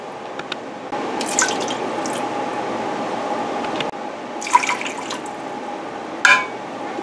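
Water poured into a pot of cranberries on the stove, a steady close splashing stream with a few louder drips and clinks, no talk.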